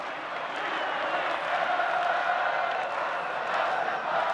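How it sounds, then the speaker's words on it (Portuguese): Flamengo supporters at a 2010 Brazilian league football match against Cruzeiro, a dense, steady stadium roar of crowd noise heard from a distance and holding without a break. "a torcida do Flamengo, tentando incentivar o time"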